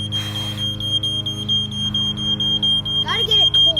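Household smoke detector sounding a steady high-pitched tone during a test. The alarm is fairly quiet and continues throughout, while people talk and shuffle around it.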